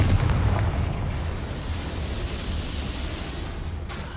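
A Confringo fire spell explodes in Hogwarts Legacy, heard as a loud, low, rumbling blast already underway that slowly fades into a dull roar over several seconds, with no talking.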